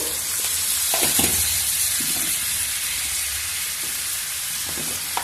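Chicken pieces for majboos fry in a pan with a loud, steady sizzle, and occasional stirring scrapes cut through the hiss. No one speaks.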